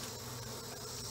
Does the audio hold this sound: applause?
no